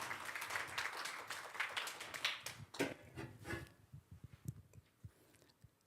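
A congregation in a Korean church claps in a short, faint burst that thins into scattered individual claps and fades out.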